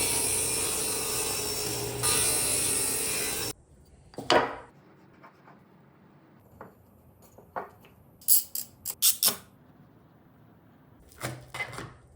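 Wenge wood being cut in a woodworking shop: a dense, steady saw roar for the first few seconds, then a few sharp knocks and brief scraping bursts of handling against a quiet room.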